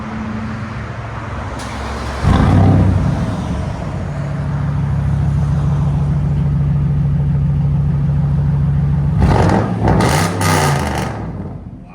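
Dodge Dakota pickup with a double X-pipe true dual exhaust, idling loud and close before two sharp rev bursts, one early and a pair near the end.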